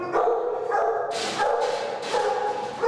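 Dogs at a flooded city animal shelter bark loudly and continuously, several overlapping voices with sharp yaps and a few whimpers, close and crowded.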